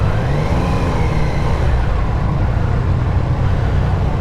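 Engine of a 2024 Triumph Daytona 660 sport bike runs loud and close with a steady low rumble, holding its pitch rather than climbing sharply, with no voices over it.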